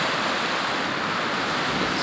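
Ocean surf at a snorkeling spot in Punta de Mita, Mexico, a steady, dense wash of water noise with no breaks and no voices.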